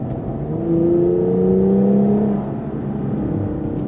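A 2020 Cadillac CT5-V in track mode revs its engine close by, the tone climbing and swelling, then easing back to a steady, loud hum.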